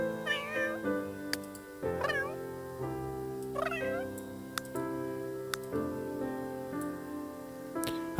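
Several drawn-out meows from a cat in The Sims 3 video game, rising and falling in pitch at intervals of about a second or two, set over soft game music with light clicks.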